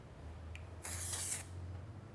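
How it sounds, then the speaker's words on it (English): Hairspray sprays onto hair from a can in a short hissing burst of about half a second, preceded by a tiny click-like puff, with quiet room tone around it. "20 centimeters is always good for a spray, I think."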